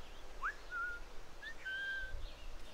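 A character in Assassin's Creed IV Black Flag on PS3 whistles: a quick rising note, then a few short level whistled tones spread over a couple of seconds, fairly clear over quiet game ambience.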